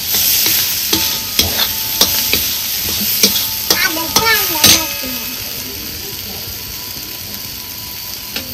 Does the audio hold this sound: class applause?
no